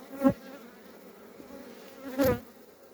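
Bees buzz around a beekeeper's hive, with two loud close passes as insects fly right by. A soft, steady hum continues between them.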